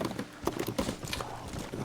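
Hooves clip-clopping in the Red Dead Redemption video game, a quick steady trot of close, distinct hits carrying on briefly with a faint background hum.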